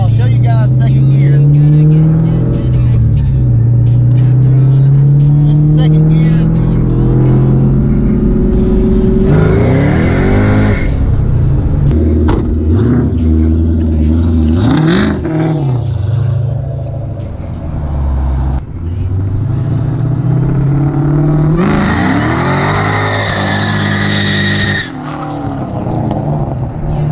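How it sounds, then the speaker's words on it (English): Kenne Bell supercharged Ford Cobra accelerating hard through second gear on the street, a loud, close engine roar that repeatedly climbs in pitch with revving surges and a high supercharger whine, with people talking over it inside the car. "Show you guys kind of what the car sounds like."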